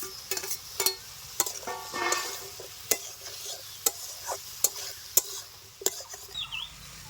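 Fried prawns are stirred into sweet pumpkin in a pan, with sharp, irregular scraping clicks of a spatula against the pan over a faint sizzle, fairly close and with no talking.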